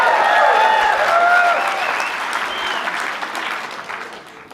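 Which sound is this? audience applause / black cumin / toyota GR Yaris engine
audience applause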